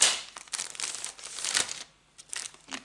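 A sheet of thick 285-gram paper rustles and crinkles as it is handled, in several close, dry bursts with a short pause near the end.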